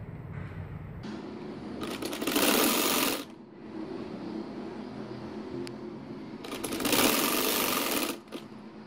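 A sewing machine stitches a hem on a poncho, with two loud rapid bursts of needle clatter between quieter mechanical whirring and handling noise, close up and with no talk.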